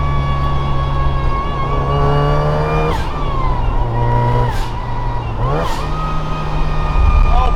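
Supercharged widebody MK2 MX5 engine droning loud and close, with three distinct downshifts where revs blip and pitch jumps, engine note continuous under the whole stretch.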